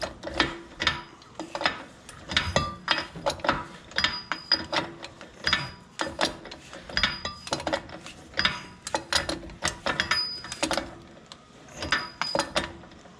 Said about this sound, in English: you initially want to torque it down to 60 to 65 foot-pounds to seat the bearing